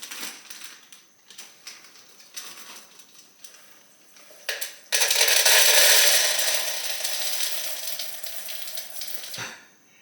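A pound of dry pinto beans pours into a vacuum storage bag as a sudden loud, steady rattling rush lasting several seconds, preceded by quieter handling and rustling.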